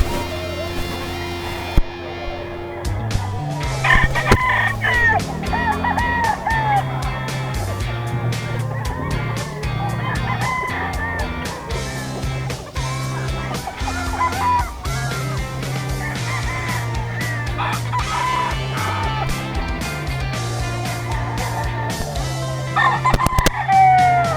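Nelson Grey gamefowl roosters crowing at a market, several birds calling over and over, some close and loud, others farther off, amid clucks and busy background noise.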